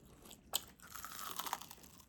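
Crunchy onion ring bitten and chewed up close: a sharp crisp snap of the first bite followed by a run of fainter crackling crunches as it is chewed, with no talk.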